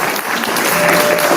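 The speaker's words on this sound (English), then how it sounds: "Let me just make a point about the applause." Audience applause fills a board meeting room, a dense, steady wash of many hands clapping, loud and close, continuing without a break.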